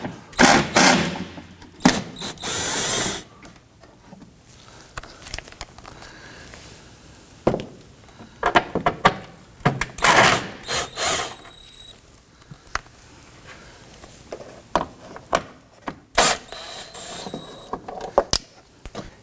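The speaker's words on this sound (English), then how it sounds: "Six 10mm bolts running around the inside of the fender liner here. We're going to loosen and remove these." Metal ratcheting and clicking from a tool loosening six 10mm bolts around the fender liner of a 2018-2024 Toyota Camry, heard in close, irregular bursts with short pauses between them.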